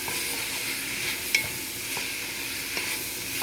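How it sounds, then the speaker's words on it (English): Shrimp stir-fries with soy sauce noodles in a pan, a steady close sizzle punctuated by a few soft scrapes and taps of the utensil. "I'm gonna stir fry for about 5 minutes."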